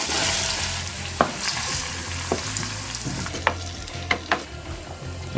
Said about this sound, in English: So this time we'll add the diced tomatoes.